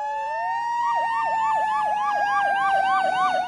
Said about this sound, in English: Youngstown Fire Department could be allowed to charge when the fire trucks turn on the sirens